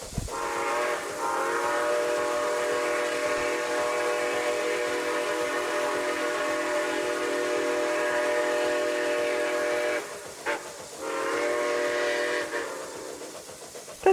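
A train in the RO-Scale Central Railroad video game sounds a long steady whistle over its rolling rumble; the whistle holds for about ten seconds, breaks briefly, then sounds again, loud and close, with no talk.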